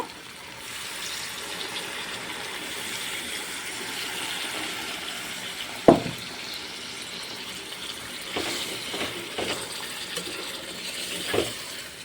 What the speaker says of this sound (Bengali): সামান্য একটু ঝোল দেব আলুটা গলার জন্য